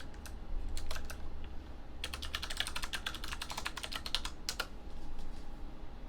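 Typing on a computer keyboard, rapid clicking keystrokes in bursts with short pauses, close and fairly quiet, with no voices.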